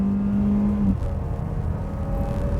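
A 2023 Mazda CX-5 2.5 Carbon Edition accelerates uphill, its steady engine hum heard from inside the cabin with a pitch drop as it shifts gears about a second in.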